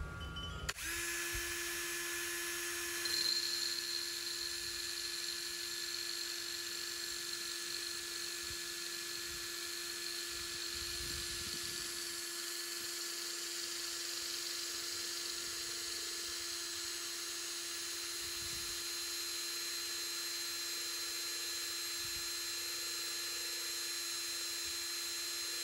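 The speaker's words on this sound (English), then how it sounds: "I just let the weight of the drill do the work" Electric drill steadily boring a hole through the base of a ceramic mug, a continuous whining hum with a high tonal whir that runs unbroken and fairly close for the whole stretch, with no talking.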